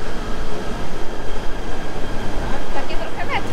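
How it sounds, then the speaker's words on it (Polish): A modern train pulls into a station in Penang, its steady rumble filling the platform and rising toward a squeal of wheels near the end, with a voice talking briefly over it. "Tam jest nasz pociąg, dziewczynko."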